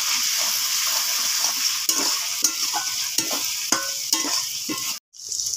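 Tomato paste stirred into ginger and garlic frying in a pan for chilli cauliflower, a constant loud sizzle with repeated scraping strokes of a spoon, close up, briefly cut out near the end.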